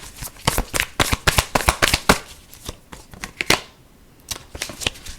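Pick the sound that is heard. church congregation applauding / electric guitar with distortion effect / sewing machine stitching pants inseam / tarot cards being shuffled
tarot cards being shuffled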